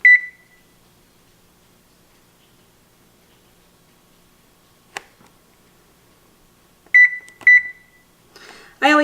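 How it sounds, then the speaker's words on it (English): Oven timer being set after loaf pans of low-carb keto bread go into an oven heated to 350: a single electronic beep, a faint click, then two more beeps in quick succession, with a brief voice at the end. "And we're gonna come up and set our timer."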